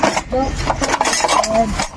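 Plates and dishes clink and clatter as they are stacked in a home kitchen, heard under continuous chatter from people talking nearby.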